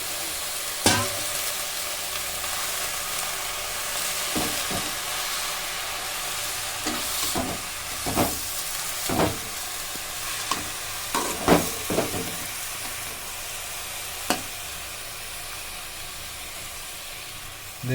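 Vallarai keerai greens sauté half-cooked in a pan, filling the clip with a constant close sizzle and hiss punctuated by repeated spatula scrapes and clacks against the pan.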